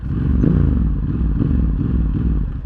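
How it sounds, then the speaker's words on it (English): A Ducati Hypermotard 1100 EVO SP's twin-cylinder engine idles at low revs, a loud, lumpy, uneven throb close to the listener, steady throughout with no talking. "that classic Ducati twin cylinder sound, the old school one, not the new school"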